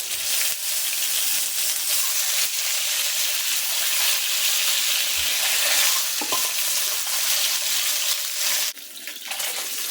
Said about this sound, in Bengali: এখন ডিমগুলো হালকা ভেজে নিব